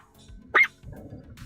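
A Maltese lets out a single sharp, high yip-like bark that stands out above low background murmur, with faint room noise before and after.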